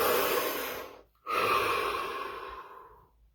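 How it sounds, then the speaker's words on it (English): A deep breath taken close by: one long, loud inhale, a brief pause, then a slower exhale that fades out. "Deep breath."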